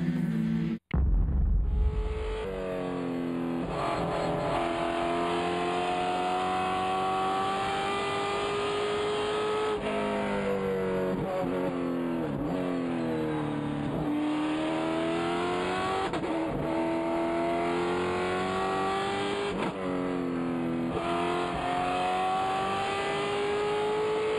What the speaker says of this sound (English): It's Newmark and Darrell Wills, your top 3 in Formula Mazda